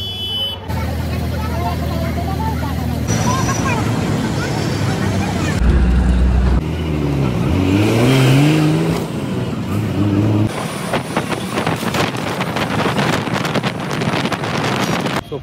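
A bus travelling the road out of Rewa toward Chakghat on a long-distance trip to Nepal, a continuous rumbling road and engine noise with wind buffeting the microphone, shifting as the vehicle moves, loud and steady throughout.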